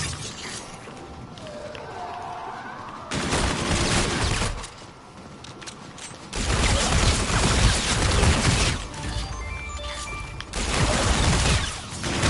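Video game gunfire from shooting zombies, arriving in loud bursts of crackling shots separated by quieter stretches of background game noise.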